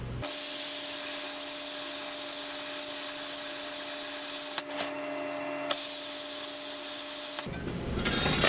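A borrowed plasma cutter run off a compressor cuts sheet metal while boxing a Chevy S10 frame, giving a loud, steady, close hiss with a constant electrical hum and a brief change in tone partway through.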